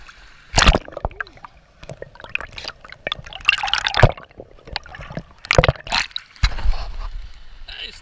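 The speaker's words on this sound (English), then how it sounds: "I'm gonna put this in the water" An object being dunked into water: irregular splashes, drips and gurgles come in bursts, close and moderately loud, with no talking.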